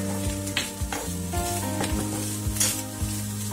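Grated coconut sizzles as it roasts in a pan, with a spatula scraping and stirring in an uneven rhythm of close, distinct strokes over a constant frying hiss.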